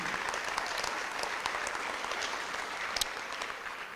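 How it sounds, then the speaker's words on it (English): At a school board meeting, an indoor audience gives the girls' varsity team a steady round of applause, the clapping moderate and even throughout with a couple of sharper individual claps. "So let's give the girls a round of applause for that."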